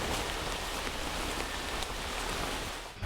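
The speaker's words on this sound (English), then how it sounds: "the rain that started to fall" Steady rain falls through a forest where chimpanzees shelter in the canopy, a dense even hiss of drops on leaves, close and continuous with no voices.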